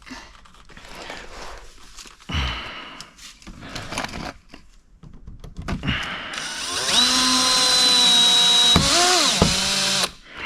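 A power drill drives screws while a SpeedForm chin spoiler is installed on a muscle car, with a sustained whirring spin that rises in pitch, preceded by clunks and handling noise nearby.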